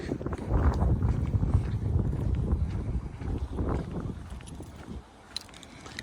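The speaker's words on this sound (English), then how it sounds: "My apologies if you guys are hearing a lot of wind." Gusty wind buffets the microphone with low rumbling bursts on a residential street in Grand Prairie, Canada, easing off toward the end, where a few faint clicks stand out.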